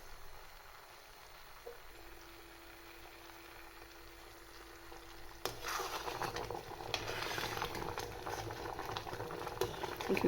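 Japanese quince jam boils in a pan with a faint, steady bubbling that grows into louder, busier popping and spluttering halfway through, heard up close with no talk.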